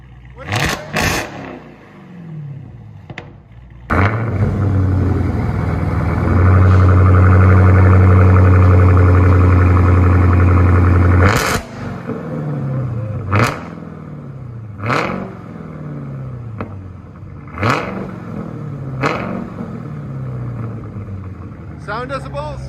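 Loud revs from a Dodge Challenger SRT Hellcat with a Black Widow exhaust: a string of sharp blips, then one long sustained high-rev hold, then more quick throttle stabs, each dropping back to a low idle.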